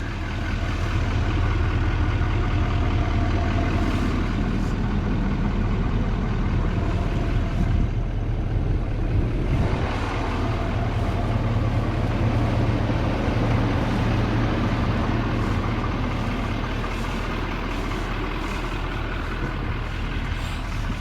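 A 2024 Chevy 2500HD pickup truck engine idles steadily and loudly with a deep continuous rumble and a broad mechanical hum, running unchanged throughout without any talk.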